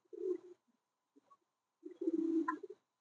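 Laksa pigeons cooing nearby in two short low bursts separated by a brief pause, soft and close with quiet surroundings.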